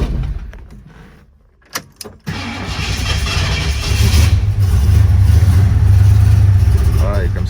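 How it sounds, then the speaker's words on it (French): A Ford Mustang stored for four months in a shipping container cranks with a few quick clicks, fires up and settles into a loud, deep, rumbling idle that swells with revs, recorded close by. "Tu redémarres ta Mustang après 4 mois d'arrêt dans un container."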